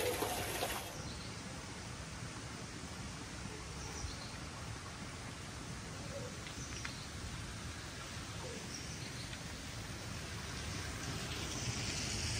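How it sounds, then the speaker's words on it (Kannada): Heavy rain pours down in a village, a steady, dense wash of hiss and patter that stays even and fairly close for the whole stretch, with no voices over it. "ಊರಲ್ಲಿ ಜೋರು ಮಳೆ ಬರ್ತಾ ಇದೆ"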